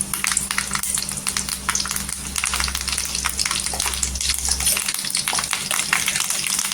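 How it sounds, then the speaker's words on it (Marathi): Steady crackling and spluttering of curry leaves frying in hot oil, a dense continuous sizzle with sharp pops, close and fairly loud. "कढीपत्ता पण असा छान असा तडतडला पाहिजे."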